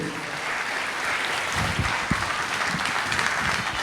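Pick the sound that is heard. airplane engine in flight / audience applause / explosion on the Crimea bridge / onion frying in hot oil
audience applause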